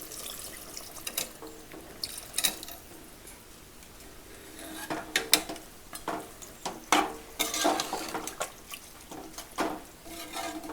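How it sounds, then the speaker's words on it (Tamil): Water poured over raw mutton and rock salt in a cooking pot, with stirring and faint sloshing at first, then a louder series of splashes and clinks toward the end; no talking. "கொஞ்சமாக தண்ணி ஊற்றிக்கணும்."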